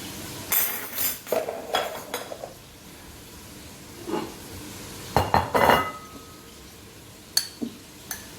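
Plates, pans and cutlery clink and clatter in scattered bursts as a vegetable curry with rosti and glazed carrots is plated up in a home kitchen. The knocks sound close and moderately loud, with quiet gaps between them.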